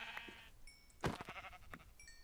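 Blocky sheep in Minecraft survival mode bleat in a few short, faint calls scattered among game sound effects and soft thuds.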